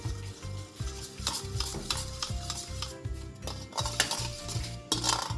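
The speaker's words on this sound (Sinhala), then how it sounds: "මේක හොඳට කලවම් කරගන්න ඕනේ දිය වෙනකම්" A spoon stirs gelatin mixture steadily in a bowl until dissolved, clinking and scraping in a quick repetitive rhythm, up close with no talking.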